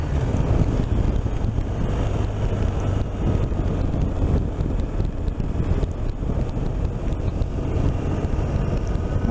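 Steady, loud wind buffets the microphone during a motorcycle ride on a BMW R 1250 RT, a constant rushing roar with no speech.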